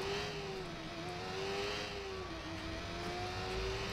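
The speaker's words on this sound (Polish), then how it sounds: "No te motory naprawdę są koks." Motorcycle engine in the game Watch Dogs, a steady droning whine rising and falling slightly in pitch as it revs, continuous and fairly loud with road noise beneath.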